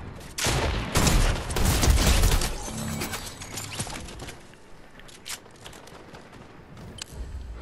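Bursts of rapid gunfire in a multiplayer shooter game ring out in loud clusters at the start and then trail off into scattered single shots, with no one talking.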